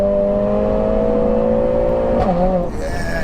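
A tuned 500bhp Mercedes A45S screams hard under acceleration, its rising engine note loud and close before a sharp snap of a gear change drops the pitch and it pulls on.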